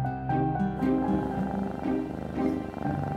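A black cat purrs up close in a steady, rumbling rhythm, each breath making a clear swell of sound, with no talking over it.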